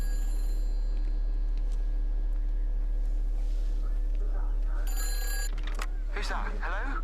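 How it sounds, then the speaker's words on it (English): A telephone rings in a village in the video game Everybody's Gone to the Rapture, a bright ringing burst near the end over a low hum and quiet ambience. "Oh, phone's ringing."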